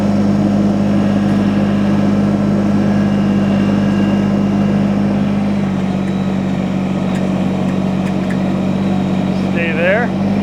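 A loud tractor engine drones and idles steadily close by while pushing a load, its low hum shifting slightly partway through, with a voice speaking briefly near the end.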